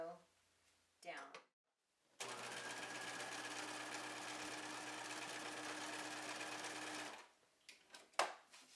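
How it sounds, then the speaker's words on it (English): A home sewing machine stitches down the last edge of a Velcro strip on a bag, one continuous close whirring run of about five seconds, with a few short handling clicks before and after. "then you'll sew the very last edge of the Velcro down"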